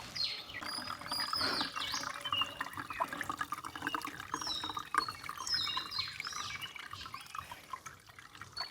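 Water trickles and splashes steadily from a pipe, with faint bird chirps in the background, on the Velliangiri Hills trail.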